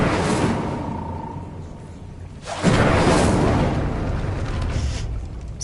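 A whooshing, roaring burst of fire from the Incendio spell in a Harry Potter video game, flaring suddenly loud midway over a steady background rumble and then sustaining as a broad crackling roar.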